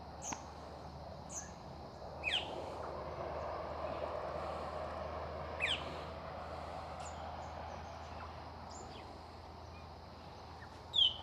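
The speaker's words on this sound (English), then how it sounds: "A lot of birds you can hear in the trees." Sparrows chirp in short scattered bursts among the trees in the early morning, fairly faint, over a steady hiss of insects and distant background noise.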